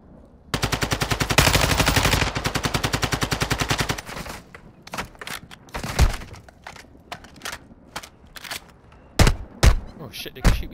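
Call of Duty: Warzone 2 gunfire opens with a sustained rapid automatic burst lasting a few seconds, followed by scattered single shots and short cracks, loud and close with faint voices mixed in.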